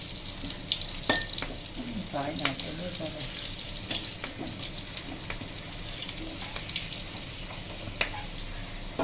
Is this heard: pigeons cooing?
no